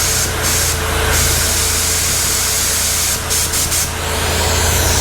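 Spray gun laying a coat of paint on an old Chevy, a loud continuous hiss close by with a few brief breaks in the spray.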